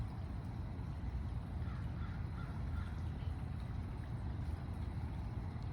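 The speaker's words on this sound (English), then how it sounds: "The crows are here." Crows cawing around a garden at sunset, faint and distant, several scattered calls under a steady broad background hum of wind or engine noise.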